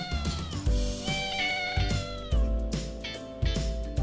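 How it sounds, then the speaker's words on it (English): A domestic cat meows repeatedly, several drawn-out tonal cries rising and falling, close and fairly loud over a steady background music bed. "Cat. This is a cat."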